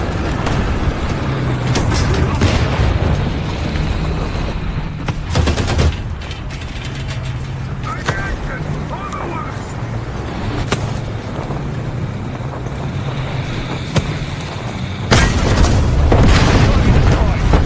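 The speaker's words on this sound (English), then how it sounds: "let me actually shoot the next. Artillery barrage this way." Artillery barrage in MechWarrior Online lands as a series of booming explosions with mechanical clanks and ratcheting, loud and repeated, getting heavier toward the end.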